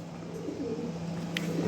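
A pet pigeon gives a soft, low, repeated coo, close by, over a steady background hum.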